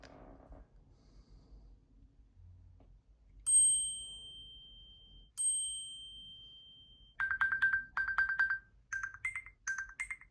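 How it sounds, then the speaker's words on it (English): Apple Watch Series 10 and Series 6 alert sounds: two separate bright chime tones, each ringing and fading, then a run of quick chirpy electronic alert bursts. All are clear and close, with no talking. "we're going to be doing alerts, so I'm going to show what those sound like"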